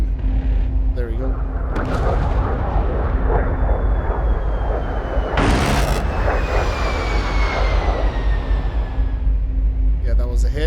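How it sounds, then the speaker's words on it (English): A-10 Warthog gun strafing ground targets in the DCS World flight game, loud continuous jet and cannon roar with a sharp burst of fire around the middle, under occasional talk. "then we're gonna clean the rest of it with a gun"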